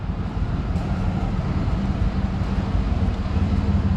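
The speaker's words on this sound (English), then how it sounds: "I got it in here idling just to let the engine warm up" A 1984 wide-body Pontiac Fiero engine idles inside a shop, giving a steady, continuous low rumble that holds the same level throughout, with no talking.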